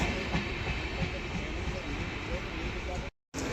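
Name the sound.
Gomti Express train speeding up on rails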